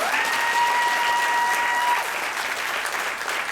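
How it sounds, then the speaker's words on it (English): A room full of women at a get-together bursts into dense, sustained applause, a continuous wash of clapping that eases slightly toward the end. "So please give yourselves a huge round of applause."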